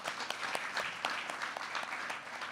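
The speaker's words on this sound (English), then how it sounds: "So I just want to take a moment to clap for Arafat and say thank you." Audience clapping at a green jobs summit, a dense, continuous applause from a sizable crowd with scattered sharper claps, heard at a moderate, somewhat distant level without any voices.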